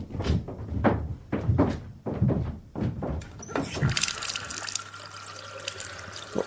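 Water gushes from a tap into a sink for splashing a face, starting a few seconds in as a steady, close rush after some earlier knocks and movement.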